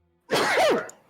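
A single abrupt sneeze bursts out loud and close, a sharp explosive rush of air lasting under a second before fading away.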